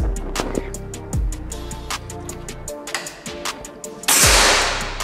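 Several sharp, sudden cracks of a Gousuto Oria V2 air rifle firing, one much louder near the end, over quiet outdoor background noise.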